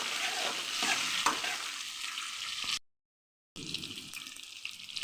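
Onions frying with dried red chillies in a pan for a fenugreek-leaf kuzhambu, loud close sizzling with a few stirring clicks, cut by a brief silent gap before the sizzle resumes.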